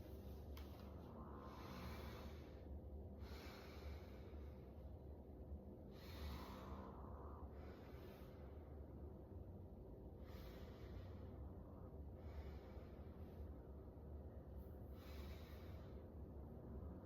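A patient takes deep breaths during a lung examination, with slow, regular inhales and exhales repeating about every two seconds, close and soft over a steady background hum.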